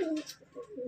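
A black female Malwai pigeon gives one short, throaty coo, close and clear, with no voices.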